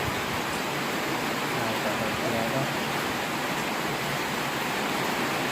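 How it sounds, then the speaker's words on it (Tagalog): Heavy rain pours steadily outdoors at a house, a dense, even hiss that fills the whole clip with no break, and no voices are heard over it. "Grabe, malakas po yung ulan dito ngayon guys."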